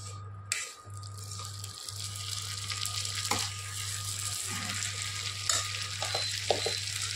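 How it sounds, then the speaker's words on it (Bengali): Banana flower and prawns fry in ghee as they are stirred in a pan: steady sizzling broken by scraping, clattering spoon strokes, over a low steady hum, with no voices. "একটু ভালো করে নেড়ে নিই"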